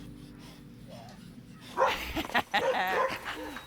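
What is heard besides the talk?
dog barking and whimpering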